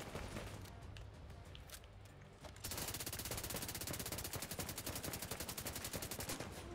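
A custom P416 rifle build firing at 1200 RPM in The Division 2 unleashes rapid sustained automatic bursts, a dense even stream of shots that follows scattered earlier gunfire, loud and continuous.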